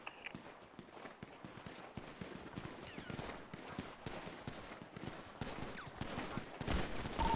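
Gunfire in GTA roleplay during a team deathmatch crackles as a dense, faint stream of rapid shots and impacts, distant and low in level, continuing throughout.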